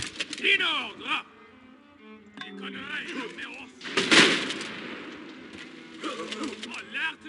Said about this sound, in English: I do like how artillery is at least 18th century / Napoleonic,